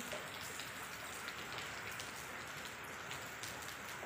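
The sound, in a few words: heavy torrential rain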